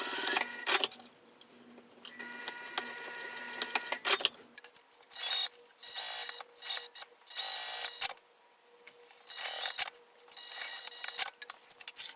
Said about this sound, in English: then I'll go ahead and sew against this edge too